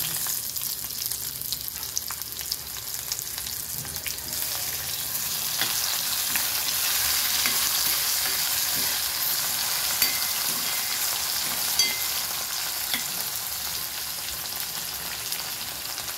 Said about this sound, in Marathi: तर यामध्ये आपण टोमॅटो टाकून